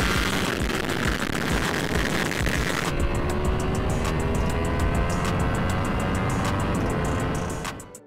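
Wind noise while riding a motorcycle, recorded through a Shoei helmet fitted with a leather chin curtain: heavy buffeting roar at first, then a quieter steady rush with engine tone and faint ticking, fading at the end.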